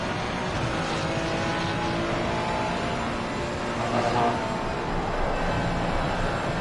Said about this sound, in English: Listen to the engine of this Ferrari.